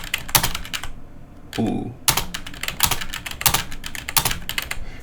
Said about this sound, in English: I'm going to type ass multiple times, and you'll see why